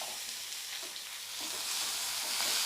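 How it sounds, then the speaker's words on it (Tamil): Cooked white cowpeas stir-fried with curry leaves in hot oil, an even close sizzle that swells slightly toward the end, with soft stirring and no voices. "கருவேப்பிலை ஒரு வதக்கின உடனே நம்ம வேக வச்சுருக்க வெள்ளை காராமணியும் சேர்த்துடலாம்."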